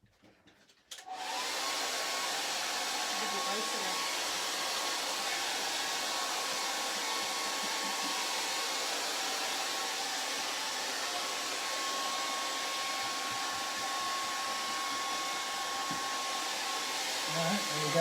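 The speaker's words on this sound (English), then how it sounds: "You can't hear me now because Lynn's got the hairdryer." A hairdryer switches on after a brief moment of near quiet and blows with a loud, constant whirring roar for the rest of the stretch, steady with no breaks.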